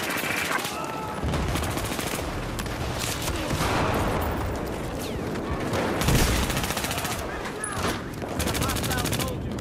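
Rapid video-game gunfire crackles in dense bursts and sustained automatic volleys throughout, loud and close, with a voice talking over the shooting in places.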